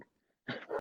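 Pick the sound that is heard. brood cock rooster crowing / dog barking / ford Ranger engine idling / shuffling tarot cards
dog barking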